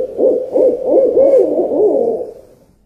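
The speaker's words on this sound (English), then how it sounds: "This is the smoking owl." An owl hoots in a close, clear series of soft, rounded calls, five or six wavering notes in quick succession that fade away at the end, with no talk over them.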